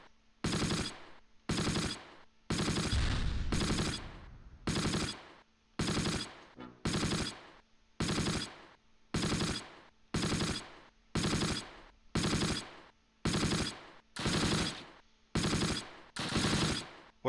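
Machine gun fire in the WWII strategy game Close Combat comes in about fourteen evenly spaced, loud bursts, each roughly half a second of rapid shots, with near silence between them.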